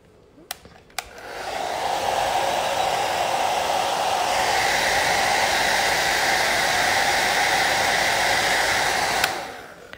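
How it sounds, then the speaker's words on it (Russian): A hair dryer switches on with a click and blows steadily during a manicure session, a loud broad whooshing roar that rises to a fuller setting midway before clicking off near the end. "Классно брать вот так вот фен."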